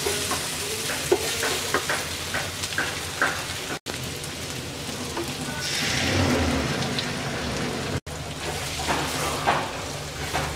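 Eggs are stirred into okra (bhindi) frying in a pan, with a close, continuous sizzle and crackle of oil broken by scraping stir strokes, swelling briefly in the middle.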